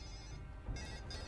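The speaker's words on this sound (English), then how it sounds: "There is my phone going off just as I am starting things again." A mobile phone rings nearby with a bright electronic ringtone, repeating tonal bursts that sound over a low background hum, fairly faint and with no voice over it.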